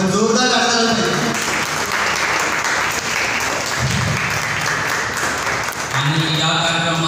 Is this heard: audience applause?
yes